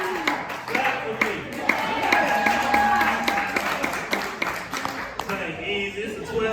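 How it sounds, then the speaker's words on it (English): A comedy club audience claps and cheers for a few seconds, steady crowd noise with scattered whoops, no words clearly spoken. "Clap for me."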